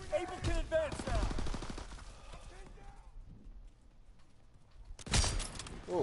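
Gunfire in Call of Duty WW2 multiplayer, heard as rapid bursts of shots and clattering impacts. Speech is mixed in, then a quiet stretch gives way to another loud burst.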